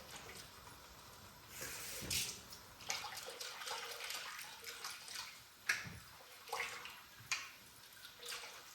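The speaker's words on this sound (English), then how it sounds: "going to add some water to it" Water is poured from a container into a pan of curry mixture for chicken jalfrezi, a soft splashing trickle with intermittent gurgles, fairly faint and close.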